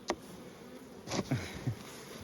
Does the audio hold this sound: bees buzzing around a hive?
yes